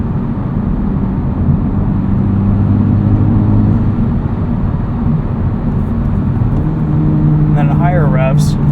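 A 2023 Honda Civic Type R with its front resonator deleted cruises on the highway, a steady, loud, low engine and exhaust hum under road noise, with a voice briefly speaking near the end.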